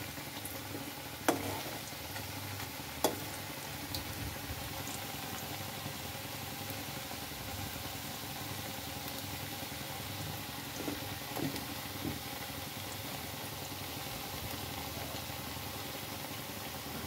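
Cabbage pakoras frying in hot oil give a steady, fairly quiet sizzling hiss that runs unbroken throughout, with a couple of sharp clicks near the start.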